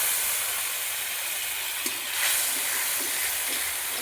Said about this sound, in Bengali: অল্প আমি জল দিয়ে দিলাম